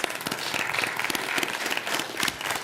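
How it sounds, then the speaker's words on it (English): An audience applauds for achievers at a regular meeting, a moderate round of irregular individual claps, fairly close and steady, with no talk over it. "let's give a big round of applause to all of our achievers"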